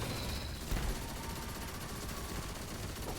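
Rapid machine-gun fire from the Four Times the Charm weapon in the Destiny video game, a dense continuous burst of shots with explosive game effects layered underneath, loud and steady throughout.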